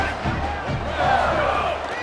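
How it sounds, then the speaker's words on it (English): Dense stadium crowd roar from EA Sports College Football, sustained yelling and screaming that swells slightly midway, with game sounds underneath. "for an entire game, they are on their feet, yelling, screaming"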